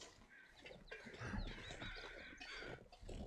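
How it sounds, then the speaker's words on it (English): A crow cawing in the video game The Long Dark, several harsh, close bird calls in short bursts over a faint ambient background, without speech. "Yeah, I like the new crow sounds."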